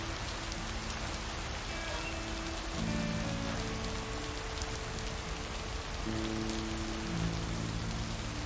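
Steady rain patters on a surface outdoors near a parked van by a lake, a dense continuous hiss with a low humming drone running underneath throughout.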